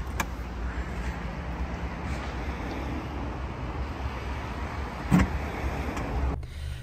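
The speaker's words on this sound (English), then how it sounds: "and an electric tailgate" The electric tailgate of a 2018 Jaguar F-Pace Portfolio closes with a steady motor hum, followed by a firm latch thunk near the end, heard close up with no voices.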